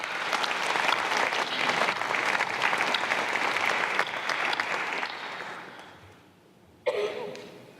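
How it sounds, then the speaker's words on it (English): Sustained applause from a large crowd at a community meeting fills the room, fading out briefly before a fresh burst of clapping rises again near the end. "deserve a round of applause"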